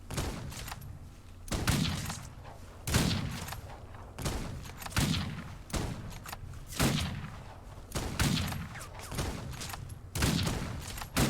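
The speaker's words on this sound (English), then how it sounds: "Time for the rifle." Rifle gunfire in a Wild West video game: loud, sharp shots about every second and a half, each followed by a short booming tail, in a steady rhythm with a low ambient bed between them.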